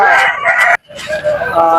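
A rooster crows loudly and close by at a market, a harmonic cry broken by a brief pause before another crow, with faint voices in the background.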